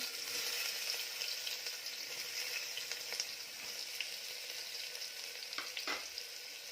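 Finely chopped onion sizzles in hot oil in a pan for a bean and eggplant curry: a steady, crackling fry with a few stirring knocks near the end, no voices.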